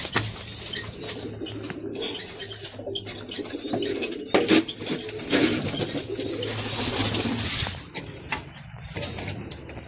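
Pigeons coo softly in their coop amid a busy background of rustling, clinks of grain trays and occasional wing flutters, with steady low murmuring bird sounds throughout.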